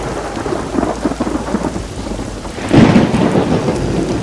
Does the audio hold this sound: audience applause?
no